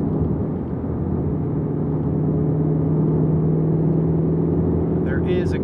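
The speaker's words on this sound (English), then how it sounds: "There is a good amount of traffic on this road." Road traffic on a busy roadway makes a continuous low rumble and whir of tyres and engines. The noise is steady and moderately loud, with a faint higher chirp near the end.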